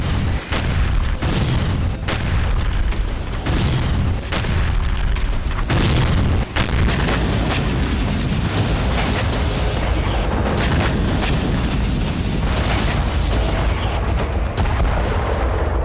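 Dense, continuous rumbling blasts of missile explosions with sharp booming impacts recurring throughout, loud and chaotic like a heavy bombardment.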